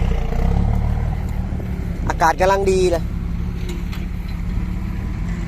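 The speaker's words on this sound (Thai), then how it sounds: "มาดูรถไถต่อฮะ" A Kubota M5000 tractor engine idles with a low, steady rumble beneath someone speaking briefly in the foreground.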